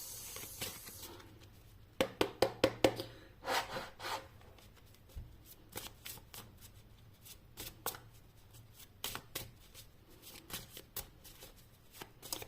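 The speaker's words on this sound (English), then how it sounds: "I'm gonna keep shuffling a few other cards." Tarot cards are shuffled in quick bursts of riffling and rubbing, with soft flicks and slaps in between, close and fairly quiet.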